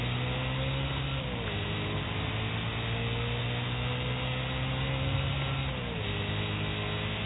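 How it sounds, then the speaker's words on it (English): The supercharger on a car in Forza Horizon 5 whines steadily under a constant engine drone, its pitch sliding down twice as the car slows and shifts, a thin, continuous tone that sounds fairly close. "so you can hear the supercharger"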